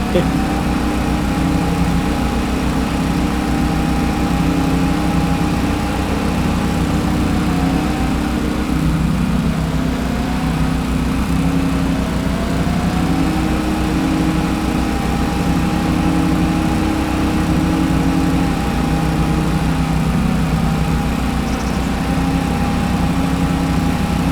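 A Husqvarna lawn mower engine runs steadily and loudly during yard mowing, a constant droning hum with a slight wavering pitch and no pauses throughout.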